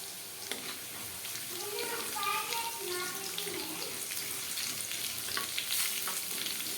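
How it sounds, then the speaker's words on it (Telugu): Chana dal, urad dal, mustard seeds and cumin fry in hot oil, crackling and sizzling close up with scattered pops and occasional stirring, a voice faintly present underneath. "ఇలా వేగుతుండగా అందులో తాలింపు దినుసులు వేసుకుందామండి"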